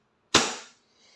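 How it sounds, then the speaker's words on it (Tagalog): A single sharp gas-blowback shot from a 2011 WE Hi-Capa 5.1 Type R airsoft pistol, a loud close crack with a short decaying tail and a faint trailing hiss, no voices. "Firing."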